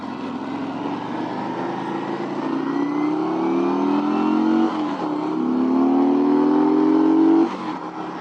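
A Harley-Davidson Road Glide motorcycle's engine revs steadily higher in two long rising pulls, separated by a short dip as the throttle drops, loud and close from the rider's position.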